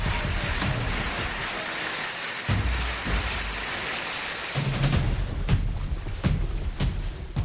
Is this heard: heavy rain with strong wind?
yes